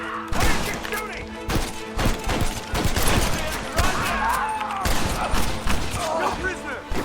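Gunfire from a Red Dead Redemption shootout: a dense fusillade of close, repeated rifle and pistol shots with thuds and impacts, while voices shout over the battle throughout.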